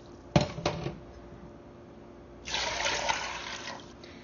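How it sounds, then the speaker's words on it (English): Water poured from a container into a Ninja Foodi pot holding dry pinto beans, a couple of quick splashes first, then a steady, bright gushing pour that runs for a couple of seconds near the microphone. "we're just gonna go ahead and add 6 cups of water"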